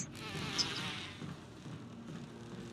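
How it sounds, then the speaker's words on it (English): In the Resident Evil Remake video game, a swarm of bees gives off a continuous, soft droning buzz that fills the short stretch at low volume. "It's full of bees."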